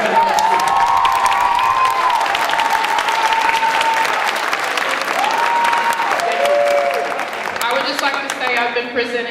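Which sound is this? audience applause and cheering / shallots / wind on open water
audience applause and cheering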